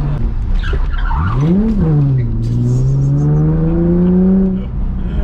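A loud Nissan 350Z engine revs up, its pitch climbing and then holding a steady drone as it pulls hard, heard close from inside.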